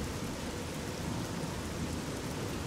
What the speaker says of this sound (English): I wonder if the rain is too loud.